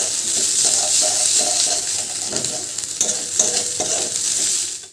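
Ingredients fry in a pan with a steady, bright sizzle while a utensil stirs and scrapes in repeated strokes, close and continuous until it cuts off abruptly at the end.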